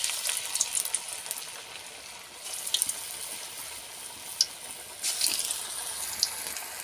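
Onion bhaji batter sizzles steadily in hot oil, a bright, close frying hiss that swells in bursts as pieces are dropped in, with no talk over it.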